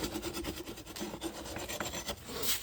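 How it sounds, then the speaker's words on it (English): A farrier's rasp files a horse's hoof during shoeing, cleaning and touching up the foot. Steady, close, repeated scraping strokes run without pause and grow louder near the end. "I don't like the rasp up here"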